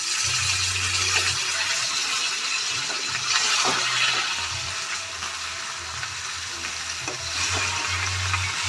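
Parshe fish sizzles in hot oil in a pan while being flipped, a loud, steady frying hiss with a few soft clicks and scrapes of the spatula, close by and without voices.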